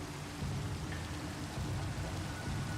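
Steady, soft rain falls in Minecraft, a continuous hiss of drops with faint low rumbling underneath and no voices.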